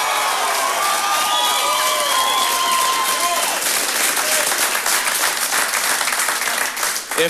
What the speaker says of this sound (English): that's probably why they were cheering so loud for you